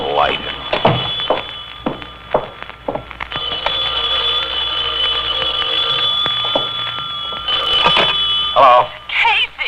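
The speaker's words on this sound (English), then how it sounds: "Knew that phone would be ringing." An old telephone rings with a steady, bright electric tone that sounds for several seconds in the middle, surrounded by voices and a few knocks and footsteps.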